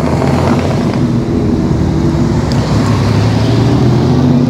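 Porsche Boxster GTS convertible in two-tone white and red with the soft top, driving at a New Year's Eve car gathering on Mont Ventoux; steady, loud engine and road rumble with wind noise throughout, no talking.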